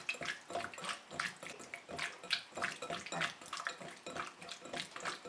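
Running water from a tap over shrimp being scrubbed and rubbed with salt by hand in a kitchen, a steady splashing rush with soft rhythmic rubbing, close and moderately quiet.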